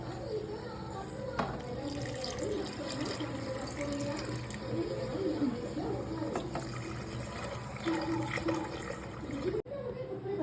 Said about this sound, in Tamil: முட்டை கலையாத அளவுக்கு ஓரமாக தண்ணி ஊற்றிக்கலாமா?